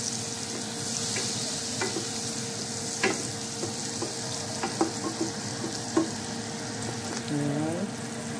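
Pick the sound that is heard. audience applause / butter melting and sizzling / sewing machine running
butter melting and sizzling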